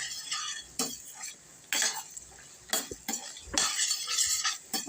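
Soaked basmati rice with cashews and cardamom is stirred in a frying pan, a spoon scraping and clinking against the metal in repeated strokes over a soft sizzle.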